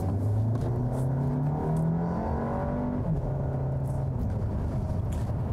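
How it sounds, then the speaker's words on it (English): A 2019 Volkswagen Arteon with an 8-speed automatic and all-wheel drive pulls away on an open road, engine note rising through the revs with a gearshift partway, steady road and wind noise beneath, heard from inside or close by. "let's get it out on the road and see how this new Arteon drives"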